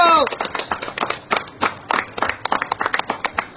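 Loud hand clapping for an uncle during a roll making and eating challenge at home, a burst of quick, uneven claps from several people over about three seconds, with voices mixed in.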